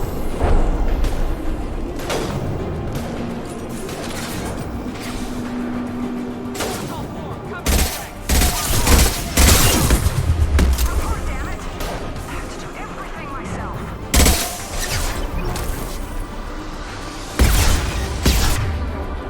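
Gunfire in Mass Effect 2 Legendary Edition on Xbox Series X, with repeated loud bursts of shots clustered in the middle and end, over steady game ambience and voices talking.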